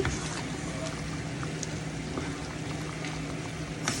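Bicol Express simmering and being stirred in a pot, a dense, even bubbling hiss at moderate level with faint clinks, heard alone throughout.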